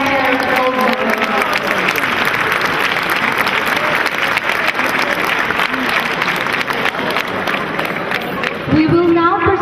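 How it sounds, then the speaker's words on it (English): Loud, sustained applause from a large convocation audience honouring Vice Chancellor's Gold Medal recipients, dense clapping with crowd hubbub and some cheering running steadily for about ten seconds. "can we have a big round of applause for all of those recipients of the Vice Chancellor's Gold Medal?"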